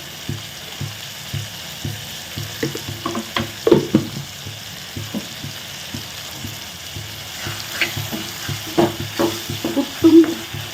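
Steady sizzling and crackling of tomatoes frying in a hot pan for potato dal curry, with intermittent stirring and scraping sounds, close and fairly loud, no talk.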